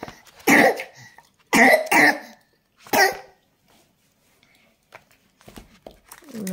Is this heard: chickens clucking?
no